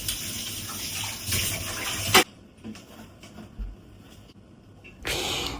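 Water runs from a tap while breakfast dishes are washed, a steady gushing stream with clatter, cutting off briefly and then returning.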